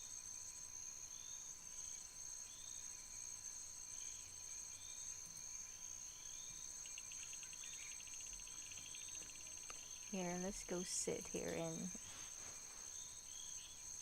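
Steady chorus of crickets chirping on a summer night outdoors, a continuous high trill throughout, with a person talking briefly near the end over it.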